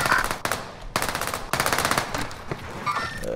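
Rapid automatic gunfire from the Warzone video game, several close, loud bursts of quick shots separated by brief pauses.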